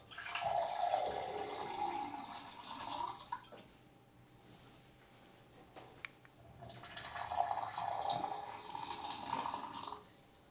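Water pours in two separate streams, each a few seconds long, with a quieter pause between them. Both pours are close, splashy and moderately loud, with no talking.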